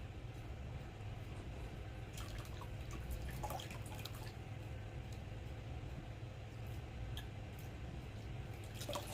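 Liquid drips and trickles from freshly squeezed ukazi (wild spinach) herbs into a jar, faint irregular drops over a steady low background hum, with no talking.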